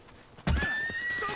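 Horse in a video game lets out a sharp, loud whinny with a rising then falling squeal that starts abruptly and trails off over about a second, with no talking.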